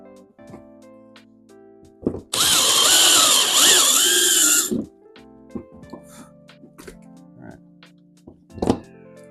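Power drill cuts a fitting hole for a Boondocker 14-gallon water tank on a first-generation Toyota Sequoia, one loud continuous run of about two seconds with a rising and falling whine, framed by quiet clicks and handling noises.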